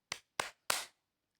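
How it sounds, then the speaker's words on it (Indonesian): A class of children doing the tepuk anak soleh clapping chant claps three times, sharp, close and separate, with the third clap slightly longer, then silence and no voices. "Itu tepuk anak soleh."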